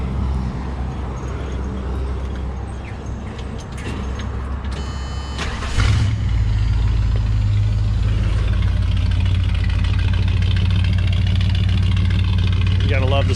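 A 1978 Ford Bronco engine cranks and catches about six seconds in, then settles into a steady, loud idle that runs to the end, with a voice talking over the earlier part.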